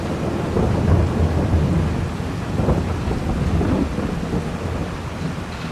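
Steady heavy rain with low rolling thunder rumbling throughout, loud and continuous, no voices, in the video game Farming Simulator 22.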